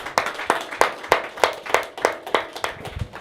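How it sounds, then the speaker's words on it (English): Hands clap in a steady, even rhythm at a panel-style community talk. About ten crisp claps fall at regular intervals, roughly three per second, fairly close and distinct, with no speech. "Can we get a clap for the sisters too?"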